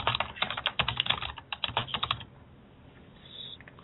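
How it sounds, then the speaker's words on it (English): Rapid, close keystrokes rattle on a computer keyboard in an uneven burst for about two seconds, then fall away to quiet room tone. "Sorry about that, typing."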